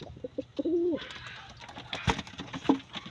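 Pigeons coo nearby, with a single clear rising and falling coo followed by soft rustling and a few short calls.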